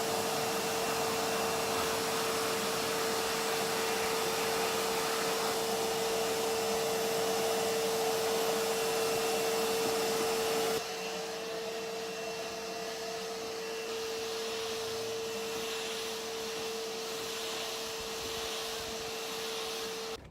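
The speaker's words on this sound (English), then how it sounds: "I'm going to quickly hoover the soft top." Vacuum cleaner hoovering lint, dust and hair off a car's fabric soft top, a loud steady drone with a constant whine that drops to a softer, lower hum about halfway through as the nozzle shifts, no talking.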